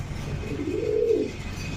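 A pigeon kept for sale gives a single soft, rising-and-falling coo close by over a low background hum, with no one talking.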